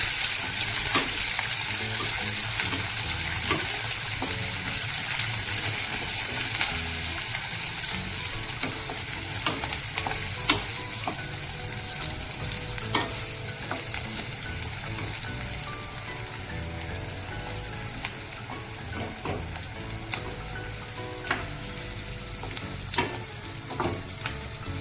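Two chopped medium onions fry in a hot pan, giving a continuous close sizzle with frequent sharp clicks and taps from stirring throughout, slowly easing in loudness.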